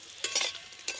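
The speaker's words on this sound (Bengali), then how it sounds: "আলু খুব ভালো করে ভাজা হয়ে গেছে" Potatoes fry in a pan, heard as a soft background sizzle with a few quick spatula scrapes in short bursts, fairly faint and without voices.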